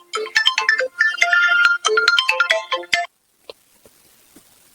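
A melodic phone ringtone plays loudly in repeated bursts for about three seconds, then cuts off, leaving near silence with a few faint clicks.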